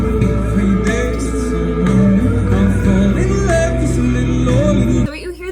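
A passage from a song, just after the bridge, plays loud and steady for about five seconds, with layered vocal melody over a full band, then cuts off abruptly.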